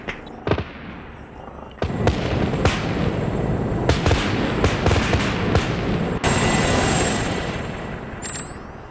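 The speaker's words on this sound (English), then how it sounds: "Uh-oh, Apache shooting." Apache helicopter gunfire in a military video game, heard as a loud series of sharp cracking bursts spaced irregularly over a dense rumbling din, with a rising whine near the end.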